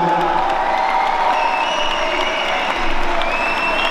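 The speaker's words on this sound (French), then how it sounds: "Un petit peu de bruit pour notre ami boxeur Bilal Latrèche ce soir" Loud audience applause and cheering for a boxer at a boxing event: continuous clapping with crowd noise and whistles holding steady for several seconds, with no speech on top.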